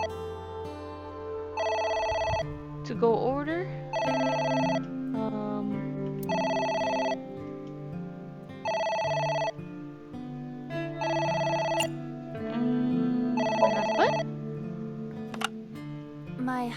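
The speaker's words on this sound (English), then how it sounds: "Oh, It's the phone. Maybe try picking it up?" A telephone in the video game AI: The Somnium Files rings in a repeated electronic pattern of about seven evenly spaced bursts over soft game music, with a brief voice line partway through.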